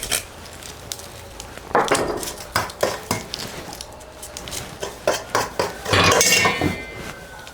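Metal utensils clink and scrape against a pot of Aflatuni fish stew, a Gilan dish with cloves, in irregular bursts, close by, with a louder clatter near the end and no talking.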